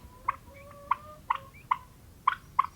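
A young Black Spanish turkey, a hatchling on a small farm, gives a run of about six short, sharp peeping chirps spaced a fraction of a second apart, close and clear over a quiet background.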